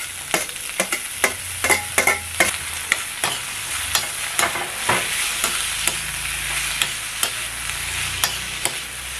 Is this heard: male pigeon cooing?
no